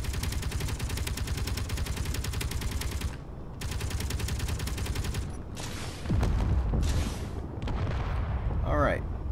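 Fighter spaceships strafe in the Space Engineers video game, firing long rapid bursts of gunfire in loud sustained volleys, broken by short pauses and a closing whoosh.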